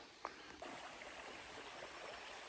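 A small forest stream feeding Tionesta Creek in Allegheny National Forest gives a faint, steady rushing hiss throughout, with a soft knock near the start.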